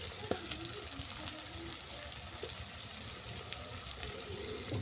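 Potatoes sizzle and fry in a pan with salt and turmeric, a soft, steady crackle with faint stirring clinks, quiet and continuous.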